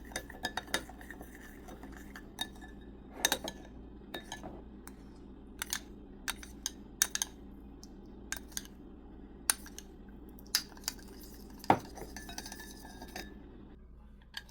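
Salad being mixed with salt and spices in a bowl, with scattered light clinks and taps of utensils against the dish over a quiet background, irregular and fairly close.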